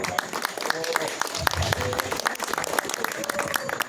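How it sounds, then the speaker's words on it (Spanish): An audience applauds at a commemorative gathering for the anniversary of the Atoyac massacre, with steady clapping throughout, murmuring voices mixed in underneath. "Un fuerte aplauso también para ellos, por favor"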